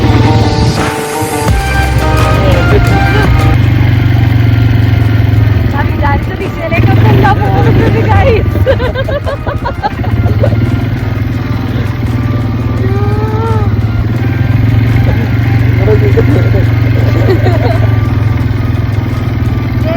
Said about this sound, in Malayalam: പക്ഷെ നമ്മൾ വിചാരിച്ച സ്ഥലത്തേക്കല്ല ഈ ക്വാഡ് ബൈക്ക് പോവുക.